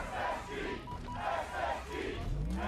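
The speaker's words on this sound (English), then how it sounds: "The crowd's starting to get a little bit louder here" A large esports arena crowd at a Halo Championship Series grand final roars in rising and falling waves of shouting, a dense, distant-sounding swell of many voices.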